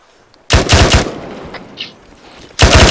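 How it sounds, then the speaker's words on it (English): Gunfire in the military shooter game Arma 3: a loud, close burst of rapid automatic shots, a quieter stretch with faint distant pops, then another sudden burst at the end, with no talking. "Your gun sounds scary."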